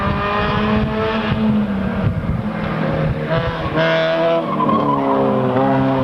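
A race car brakes hard at a road-course race, tires squealing in a long, wavering skid with engine noise underneath, fairly loud and close.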